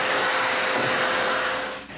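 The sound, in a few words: vacuum cleaner cleaning dust off a wooden dresser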